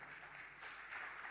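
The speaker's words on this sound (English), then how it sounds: "Let's give all of them a huge round of applause." An audience at an international seminar session of IPWE India applauds with a steady, dense wash of clapping that holds at an even level throughout.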